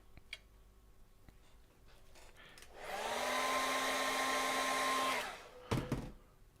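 A handheld hair dryer blows steadily for about two seconds to dry acrylic paint on a portrait, a loud close whoosh with a faint tonal whine, preceded and followed by quiet room noise and a brief clatter.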